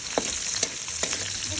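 Onions frying in a pan give off a steady close sizzle, with a few soft stirring scrapes breaking through the hiss.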